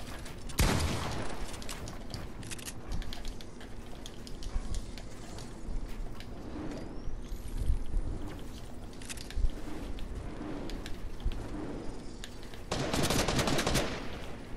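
Video game gunfire crackles in rapid machine-gun bursts, with a dense sustained volley at the start and another near the end, scattered shots between, all fairly close and loud.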